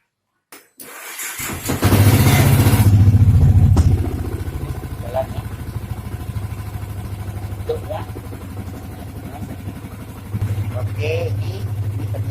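A motorcycle engine cranks and catches after a serviced dry battery is fitted, starting with a loud burst and then settling into a steady, close idle with a low throbbing hum.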